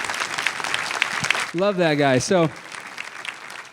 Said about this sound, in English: let's give Matt a round of applause